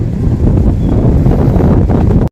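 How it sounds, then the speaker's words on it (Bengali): Strong gusty wind buffets the microphone beside a lake, a loud, continuous low roar that surges and eases before cutting off abruptly at the end. "ঝিলের জলটা দেখো টলটল করছে হাওয়ায় ওই দেখো ওই দেখো দমকা হাওয়া"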